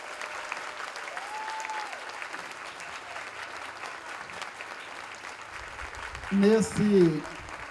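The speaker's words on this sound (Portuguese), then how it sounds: "Eu quero pedir uma salva de palmas a todas as mulheres que aqui estão presentes." Applause from an audience honouring the women present at a university ceremony for a rector's reappointment, a steady dense clatter of clapping throughout, with a brief voice and louder noise near the end.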